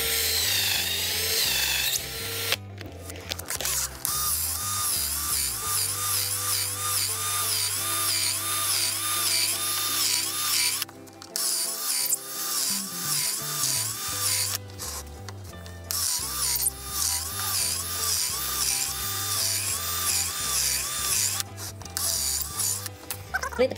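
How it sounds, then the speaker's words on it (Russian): Power drill boring holes in a workpiece during a build, with loud continuous whirring and grinding in several bursts separated by brief pauses, close to the mic and no talk. "Теперь все засверливаем."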